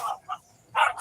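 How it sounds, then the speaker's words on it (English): Puppies play-fighting with short yappy barks and growls, three bursts with a loud one near the end, close and lively with no talk over them. "the puppies know that, and they start attacking each other and growling and beating each other up"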